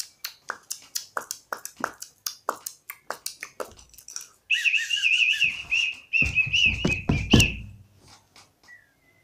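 A whistle is blown in one warbling, trilling blast lasting about three seconds, loud and close. A run of sharp clicks and taps comes before it, and thuds sound beneath it.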